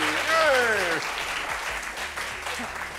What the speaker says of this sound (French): Applaudissez mon artiste